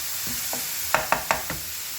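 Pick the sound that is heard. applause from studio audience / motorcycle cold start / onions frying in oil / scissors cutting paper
onions frying in oil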